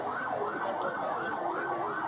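A loud ambulance siren wails in rising and falling sweeps, continuous and close.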